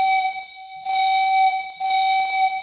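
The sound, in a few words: caboose whistle in video game Trainz 2022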